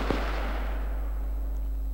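A single sharp gunshot cracks at the start of a firefight in the World War II shooter game Iron Front, followed by a steady low rumble and hum.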